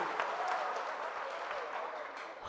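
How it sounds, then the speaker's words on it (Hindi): Clapping from a crowd at a mushaira poetry gathering in a marriage hall in Bansi, Siddharthnagar, forming an even, continuous patter of many hands at a moderate distance for the whole short stretch. "जरा तालियां बजाइए इनके लिए।"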